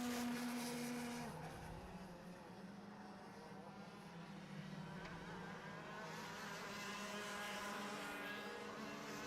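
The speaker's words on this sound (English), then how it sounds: "We can really hear that exhaust. You forget how loud they are without any baffles in." Unbaffled racing kart engines at a club championship race blare continuously and loudly, a broad buzzing roar from several karts that swells and shifts in pitch as they pass.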